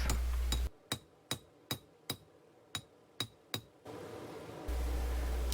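Hammer blows planishing a metal rose piece flat, about eight sharp, ringing strikes in an even rhythm, each decaying quickly, framed by background noise at the start and end.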